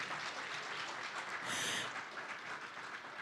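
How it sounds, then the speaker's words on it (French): Audience applause at the opening ceremony of the Jayli Awards 2025, a steady, dense wash of clapping from a large hall crowd that swells briefly in the middle, with no voices over it. "Est-ce qu'on peut renouveler les applaudissements"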